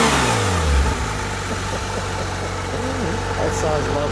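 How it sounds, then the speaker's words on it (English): A white and green 2016 Porsche 911 R limited edition blips its engine with a quick low swell that settles into a steady close idle rumble, while people talk over it. "Give it a slight rev, would you please?"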